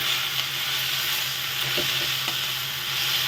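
Tender fresh coriander sizzles and fries in a hot pan, a steady dense crackle with a few soft stirring scrapes, close and continuous throughout.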